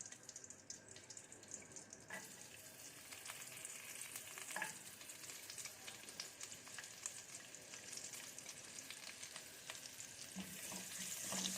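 Chopped garlic frying in a pan of butter and olive oil for a chicken vegetable pasta, giving a steady, moderately loud sizzle with a few brief clinks and stirring noises, and no voices.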